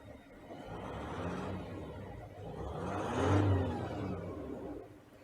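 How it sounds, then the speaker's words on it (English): A 2021 Jeep Gladiator EcoDiesel revs gently from near by, its turbo whine climbing over the engine's low hum and swelling to a peak before easing off. "you hear the turbo whistle a little bit more than the engine"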